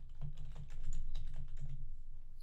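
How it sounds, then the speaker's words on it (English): Steady typing on a computer keyboard, a quick run of crisp key clicks at close range with no talk over it. "I'm going to type it in."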